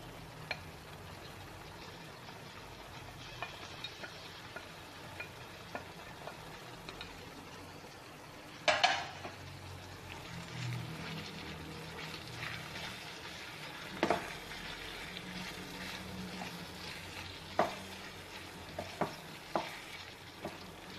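Chilli prawns with spring onion stir-fried in a pan, a steady low sizzle broken by occasional louder scrapes and clatters of the spatula, including a sharp burst partway through, with no talking.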